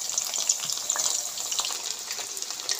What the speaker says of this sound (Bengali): ভালো করে ভেজে নেব উল্টে পাল্টে।